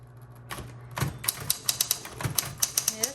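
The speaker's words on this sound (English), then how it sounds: "So electric typewriter with a manual return." A 1970s Corona Electra 120 electric typewriter with a manual return types a quick run of sharp key strikes, building from a few taps into a steady clatter, close and clear.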